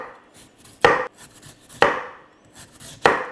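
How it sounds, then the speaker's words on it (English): A knife slices through stacked Korean radish for white kimchi, giving three sharp, close chops spaced about a second apart, with quiet gaps between them. "and we're gonna just start cutting."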